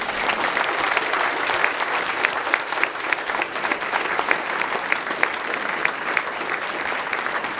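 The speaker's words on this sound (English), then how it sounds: "Round of applause." Applause fills a banquet hall at a Stars & Stripes dinner for veterans and cadets, a steady, continuous crowd clapping with sharp individual claps standing out, sustained at even loudness throughout.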